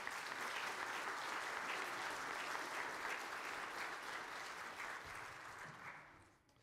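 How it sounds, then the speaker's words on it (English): A church congregation applauding during an 11 AM traditional service, a faint, even wash of many hands clapping that holds steady and then fades away at the end. "You can clap."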